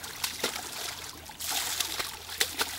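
Children splash water in an outdoor pool: continuous wet sloshing and spattering with scattered sharp splashes, close and fairly loud.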